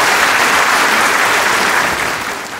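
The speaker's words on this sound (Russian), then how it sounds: "давайте похлопаем ребятам" Audience applause at an improv comedy show in Almaty, a dense, steady wash of clapping that holds loud throughout and eases slightly toward the end.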